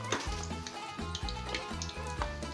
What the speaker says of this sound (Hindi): पहले हम इसकी एक साइड थोड़ी सी फ्राई करेंगे